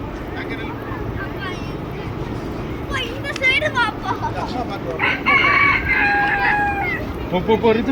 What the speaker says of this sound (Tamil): இது பார்த்தீங்கன்னா கோழி வகைகள்.